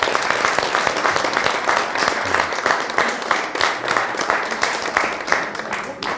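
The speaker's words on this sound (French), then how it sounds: "Je crois qu'on peut vous applaudir." An audience at a jury-judged presentation on smart cities and artificial intelligence applauds, a dense, sustained burst of clapping that carries on steadily for several seconds, fairly close, with a voice briefly audible through it.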